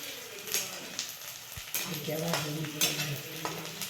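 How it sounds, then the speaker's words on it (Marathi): Onions frying and being stirred in a pan, a continuous sizzle with scraping stir strokes and occasional clinks of a utensil, close and moderately loud. "मस्त कांदा लाल परतत आला आहे"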